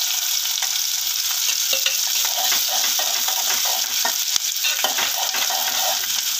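Dried red chili and curry leaves sauté in hot oil for a goat trotter curry, giving a steady, close, dense sizzle with faint stirring scrapes throughout and no voices.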